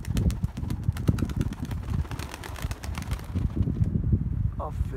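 Tumbler pigeons coo and call close by outdoors under steady wind rumble on the microphone, with a faint voice in the background.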